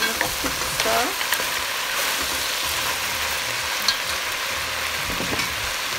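Curry goat sizzling in a pot while being stirred, a constant close frying hiss with intermittent scraping stirs and a few clinks, no voice.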